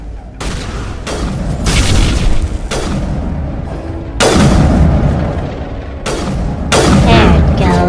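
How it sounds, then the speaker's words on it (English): Repeated heavy gunfire and booming blasts from the Mass Effect video game, coming in several loud bursts with short gaps in between over a dense, continuous combat din. "Garrus, you gotta stop shooting me. Shooting me is not helping."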